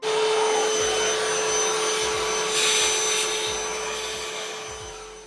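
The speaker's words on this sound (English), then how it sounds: "I'm just going to grab a vacuum," Vacuum cleaner running continuously to dry out a leak inside a boat, a loud steady whine with a constant pitch and a brief surge in airflow partway through.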